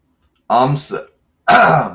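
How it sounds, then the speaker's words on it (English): A person clears their throat twice in quick succession, two short, rough, close-up bursts separated by a brief silence. "Sorry, clearing my throat."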